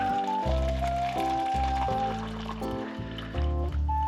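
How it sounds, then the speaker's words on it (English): Hot water poured into a teapot, a continuous close trickle and gurgle whose pitch shifts as the pot fills, with faint background tones. "So let's pour some water in."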